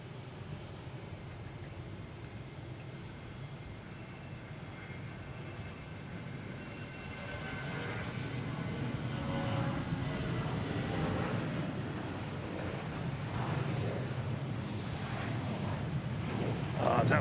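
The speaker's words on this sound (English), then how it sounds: "we have a JetBlue taking off" A JetBlue airliner takes off at Boston Logan, a broad, rumbling jet roar that swells from about eight seconds and stays loud and steady, with faint talk in the background.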